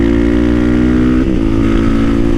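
A supermoto motorcycle rides steadily with a loud, close, continuous engine drone and a brief pitch dip as it shifts, with no talk.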